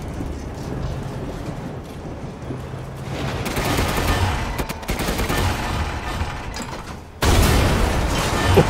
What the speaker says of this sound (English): Got fire cannon and machine gun.